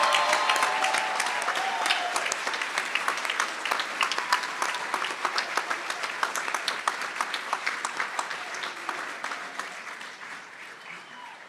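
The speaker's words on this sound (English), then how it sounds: "Let's have one more round of applause for the 2024-25 graduates." An audience at the 2025 Kent State Stark commencement ceremony applauds the graduates. Dense, steady clapping carries on for about eleven seconds and slowly thins and fades toward the end.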